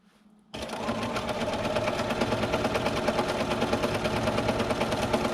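A sewing machine starts abruptly and runs fast and steady while free-motion quilting fabric for a gift bag, its rapid needle chatter close and even, with no talk.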